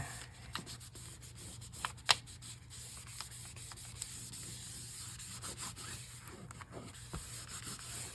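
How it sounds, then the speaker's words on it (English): A craft surface is rubbed down by hand, producing faint, steady scratchy rubbing with a few small clicks and taps over a low background hum, close and quiet. "Just give it a good rub down here."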